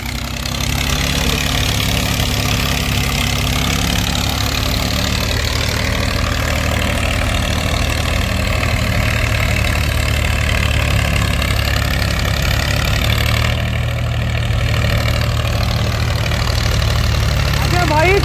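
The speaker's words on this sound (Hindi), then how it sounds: "भाई मात्र 35 HP का ट्रैक्टर।" A 35 HP tractor engine idling nearby, a loud, steady low rumble with an even mechanical pulse that holds unchanged throughout.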